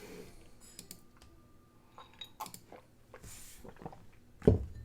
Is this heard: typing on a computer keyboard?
yes